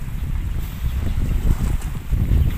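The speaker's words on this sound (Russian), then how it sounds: "Немножко ветерок, но приятный." A light sea breeze buffets the microphone on a seaside fishing outing, a steady low rumble of wind with soft gusts and no voices.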